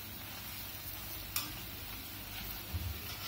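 Jaggery-syrup garelu fry in hot oil with a soft, steady sizzle and light crackle, quiet and close, with one sharp tick partway through.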